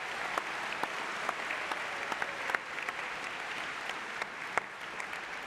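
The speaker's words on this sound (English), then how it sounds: "Can I ask everyone to join me in a round of applause for our panel" An audience at a science fair panel session applauds the panelists, a steady moderate patter of many hands with a few distinct nearby claps, no talking over it.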